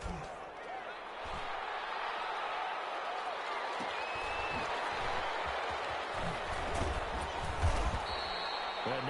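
A stadium crowd in Madden 21 cheers and applauds for the defense, a steady, full roar throughout with some thumps and faint commentary-like sounds mixed in.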